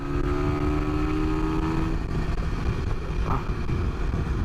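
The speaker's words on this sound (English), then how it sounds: "I'm actually riding a NSR 150 SP" A Honda NSR 150 SP motorcycle being ridden, its engine droning loudly and continuously with a falling tone partway through.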